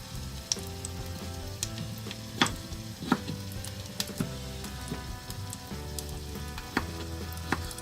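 Green pepper and other pizza toppings sizzle in a small pan on a vintage toy kitchen, a steady crackling fry dotted with sharp pops and spits, close and fairly quiet with no talking.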